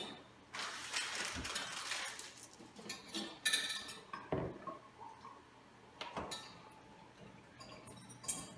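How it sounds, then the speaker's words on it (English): A whisk stirring in a pot on the stove, giving faint scraping and clinking metal sounds in irregular bursts with quiet gaps, close by and without talk. "now you have your whisk there, so you're going to continually stir it until it is completely melted"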